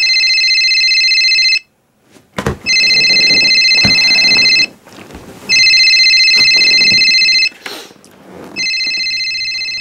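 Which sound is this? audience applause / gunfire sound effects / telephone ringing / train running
telephone ringing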